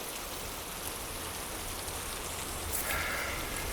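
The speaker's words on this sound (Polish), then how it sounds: "No więc nie przestaje padać." Steady rain falling in a forest, heard from under a makeshift shelter made from a bag: a continuous, even patter that keeps the same moderate level throughout, with no voices.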